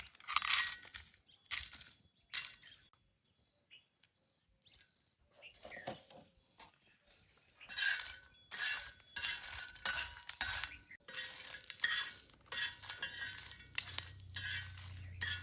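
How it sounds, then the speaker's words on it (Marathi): Chillies dry-roasting in a pan for an egg masala, with intermittent scraping and clinking of a spoon stirring against the metal in bursts, a soft sizzle, and a low hum toward the end. "आता मिरच्या भुजून घेतो"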